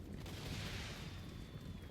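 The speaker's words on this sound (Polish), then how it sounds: "Rzutnia piekielnych fajerwerków." Hellstorm rocket battery firing in Total War: Warhammer, a continuous rushing, crackling barrage with dull booms, fairly faint and steady throughout.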